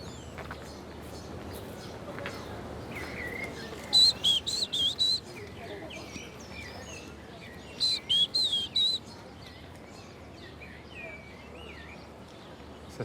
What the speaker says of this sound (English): That's the song of the short-toed tree creeper.